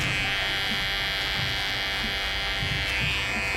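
Electric hair clippers buzz steadily and close-up while trimming sharp edges during a men's blended quiff haircut, a constant high drone with faint shifts as the blades move along the hairline.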